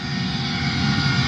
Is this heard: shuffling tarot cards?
no